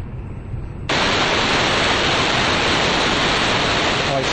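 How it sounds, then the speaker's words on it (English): A quiet phone line hum abruptly gives way to loud, steady hiss like white noise, the sound of an encrypted call as heard by a wiretapper, filling the rest of the clip without change. "This is what ciphertext sounds like to the wiretapper."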